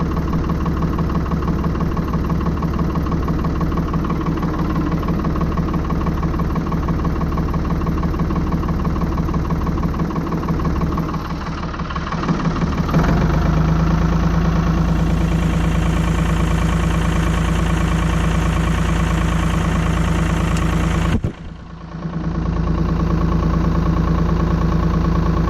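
Ford tractor engine running steadily at a close, loud idle with a low rumbling vibration, holding throughout with a brief dip near the end.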